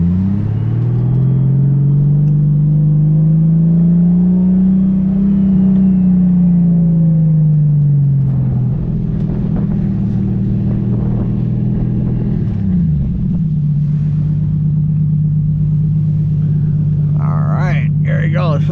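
A 600HP Lexus IS300 sleeper's engine drones loudly close by, pitch rising and falling through a long pull as it accelerates past a school bus, then settles into a steady rumble.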